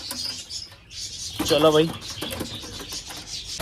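Pigeons kept in a cage setup give a short burst of cooing, fairly close and loud, while someone speaks briefly over them.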